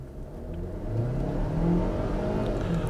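A Volvo XC40 T5 AWD petrol engine pulls hard at full throttle from a standstill on a dry road, a rising drone that swells and climbs in pitch, steady and fairly close with no talk.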